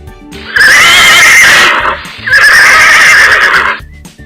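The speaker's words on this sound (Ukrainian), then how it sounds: "На подвір'ї стоїть кінь." A horse gives two loud, close whinnies in succession, each a long shrill call with a brief gap between them.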